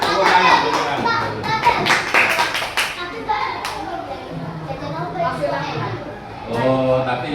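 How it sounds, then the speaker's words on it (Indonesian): Children clap hands together in an elementary Islamic studies class, a dense burst of loud claps at the start fading into scattered taps, with a teacher and kids talking over and after. "tepuk tangan"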